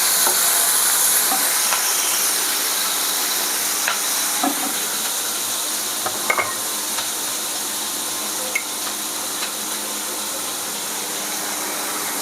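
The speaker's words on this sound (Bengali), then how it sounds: "এবার আমি এর মধ্যে তেলের মধ্যে আমি একে একে এগুলো সব দিয়ে দিচ্ছি। একটু ফ্রাই করে নেব।" Battered fish pakora pieces frying in hot oil for chili fish give a steady, even hiss of sizzling, with a few soft clinks and stirs scattered through. No one speaks.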